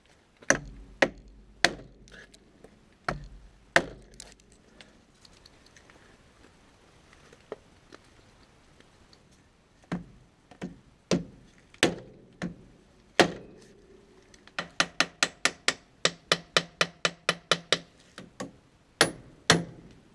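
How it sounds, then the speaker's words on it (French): Metal hammer strikes ring out on a tractor's front tire assembly in a workshop, a few sharp blows at first, then sparse hits, then a fast, steady run of more than a dozen ringing impacts near the end. "je vais taper là-dessus pour que ça descende"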